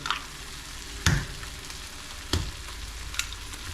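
Eggs frying in a pan give a soft continuous sizzle, punctuated by a few sharp knocks and taps of a utensil against the pan.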